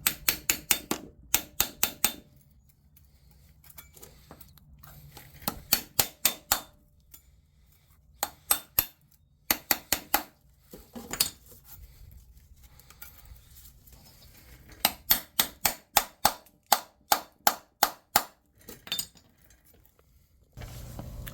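A putty knife is tapped with a hammer under the oil pan of a 2005 RAM 1500 4x4 with a 5.7L HEMI engine to free it. Sharp metallic strikes come in quick bursts of several blows, separated by pauses, close by and without talk.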